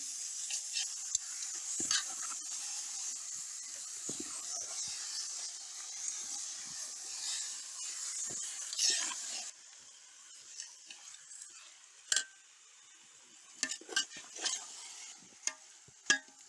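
Rabbit meat sautés in hot oil with curry leaves in a village-style pan, giving a loud continuous sizzling hiss that drops away after about nine seconds, leaving scattered stirring clacks.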